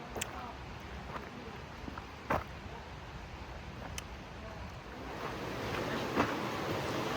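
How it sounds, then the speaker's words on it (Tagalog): Brandywine Falls in British Columbia pours as a steady, distant wash of falling water, fairly faint and even, with brief clicks and a few quiet voices over it. "Yun, lakas ang tulo ng tubig ah."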